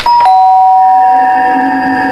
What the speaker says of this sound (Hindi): डोरबेल की आवाज ने मानो तीनों के बदन के वजन को आधा कर दिया हो